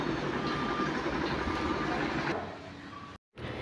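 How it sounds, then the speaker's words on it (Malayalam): A train runs along a nearby railway track on a foggy day, its rolling rumble and faint clatter sustained at a moderate distance before easing off, with a brief gap of silence near the end. "പിന്നെ അതുവഴി റെയിൽവേ ട്രാക്കൊക്കെ പോകുന്നുണ്ട്."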